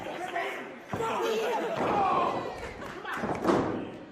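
Wrestling bodies slamming onto the ring mat during a match, several heavy thuds in quick succession over arena crowd noise, with commentary talking throughout.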